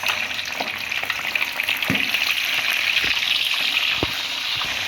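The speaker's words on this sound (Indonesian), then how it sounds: "goreng dulu ikan tongkolnya ya guys" Tongkol tuna sizzles steadily in hot oil, a constant loud crackling hiss close by, with a few soft clicks and pops scattered through it and no voices.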